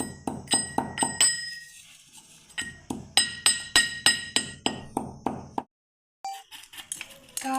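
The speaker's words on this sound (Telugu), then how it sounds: "మెత్తగా దంచుకోవాలి." Rock salt is pounded in a mortar with a pestle, making a steady series of sharp, ringing knocks in two runs with a short pause between them, close and clear with no talking.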